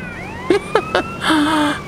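A police siren sweeps steadily in GTA San Andreas Definitive Edition, partly masked by a few sharp short bursts and a louder stretch of game noise.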